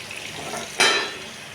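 Pointed gourd (potol) slices fry in a pan, giving a soft sizzle that jumps into a sudden loud hiss and spatter partway through, then slowly settles.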